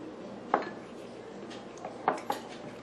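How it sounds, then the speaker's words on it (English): A teaspoon mixing salt into Chinese hamburger meat in a bowl gives a few sharp metal clinks against the bowl, spread apart over low kitchen background noise. "Mix that in there and get the salt off your teaspoon"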